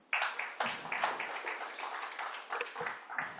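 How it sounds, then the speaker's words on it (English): Audience applause after a presentation at an agricultural policy event, steady clapping from a modest crowd starting abruptly, moderately loud and a little distant, fluctuating in intensity over a few seconds. "Can he get another round of applause?"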